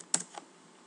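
A couple of quick keystrokes on a computer keyboard, close and fairly soft, with a brief pause between clicks against a quiet background.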